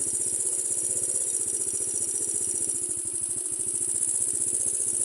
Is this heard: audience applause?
no